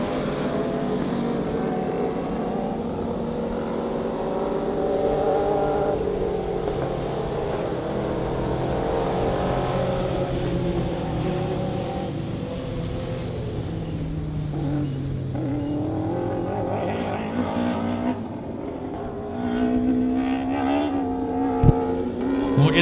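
Stock race cars circling the oval at Honor Speedway, a steady, continuous engine drone from several cars at a distance, with rising and falling pitch as they roll under a caution.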